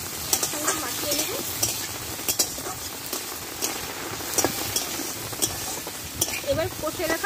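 Panch phoron and bay leaves fry in hot oil with masala while a spoon stirs it, giving a steady sizzle broken by repeated scraping and clinking strokes against the pan.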